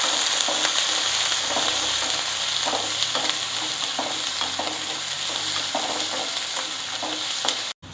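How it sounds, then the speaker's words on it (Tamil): Onions sautéing in a pan with curry leaves and three dried red chillies, a loud continuous sizzle with repeated stirring scrapes, no talking, ending abruptly. "வெங்காயத்தை நல்லா வதக்கிக்கலாம்."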